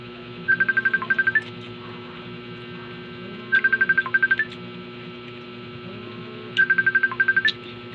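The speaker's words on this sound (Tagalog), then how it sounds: "May tumatawag pero hindi ko kilala." A phone rings with an incoming call during a meal, three bursts of a rapid warbling electronic trill spaced about three seconds apart, steady and moderately loud over a low background hum.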